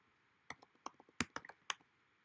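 A computer keyboard is tapped quietly as a password is entered: about half a dozen irregular, crisp key clicks in a short burst, with soft gaps between them.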